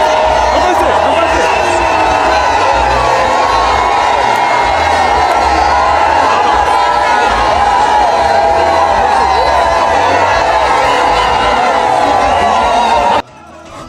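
A large outdoor crowd at a party headquarters esplanade cheers and gives frenzied ovations to welcome the first lady, Denise Nyakeru Tshisekedi, a loud, continuous roar of shouts and whoops that cuts off abruptly at the end.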